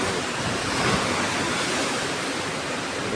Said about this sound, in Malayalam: നല്ല കാറ്റാണ്, ചെറിയ തണുപ്പുണ്ട്